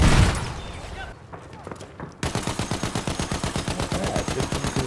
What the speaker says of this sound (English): I was destroying the bomber with my machine gun